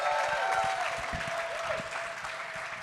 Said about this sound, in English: Let's give our panelists, our co-host Shae Ghosh, as well as all of you, a round of applause again